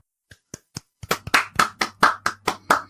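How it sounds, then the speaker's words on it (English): Hand clapping: a few sparse, sharp claps, then a steady rhythmic run of about ten loud, close claps in an even beat, like one person or a small group clapping together. "Everyone, let's go. Round of applause."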